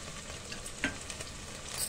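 Chopped coriander being stirred into bajji sambar in a pot, with soft, continuous scraping and bubbling close by and one brief clink partway through.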